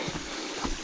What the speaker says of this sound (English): Yeah, we've got a waterfall again.